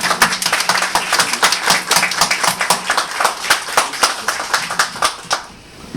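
A crowd claps in sustained applause at the Banguela launch event, dense rapid hand claps holding steady for several seconds before fading out at the end.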